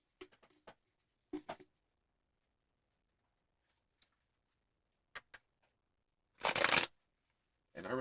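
Tarot cards are shuffled and pulled in quiet, brief bursts: a few soft flicks and riffles spaced apart, then a longer, louder shuffle near the end, close up in a hushed room.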